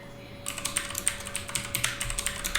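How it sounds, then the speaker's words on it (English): Quick, light clatter of keys on a computer keyboard, tapped in uneven bursts close to the microphone, with a faint steady hum underneath and no talking. "So we could type in our function"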